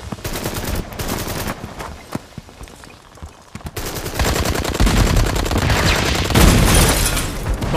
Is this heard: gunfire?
yes